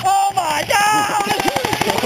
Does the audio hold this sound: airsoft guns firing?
yes